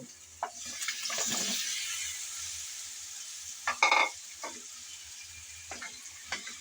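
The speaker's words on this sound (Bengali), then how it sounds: "আলুটা দিয়ে ভালোভাবে নেড়ে চেড়ে কষিয়ে নেব" Potatoes are stirred and fried in spiced oil for a potato and pea curry. A spatula scrapes the pan in several distinct strokes over a low, steady sizzle, with a sharp louder scrape in the middle.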